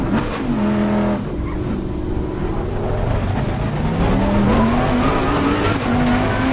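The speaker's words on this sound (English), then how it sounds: "I just love the sound of this engine" A race car engine in the FIA Motorsports Games racing video game revs and climbs through the gears, loud and close, with a brief tire-squeal edge as the pitch rises and drops.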